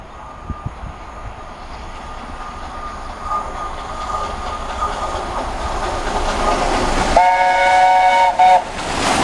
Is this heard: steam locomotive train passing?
yes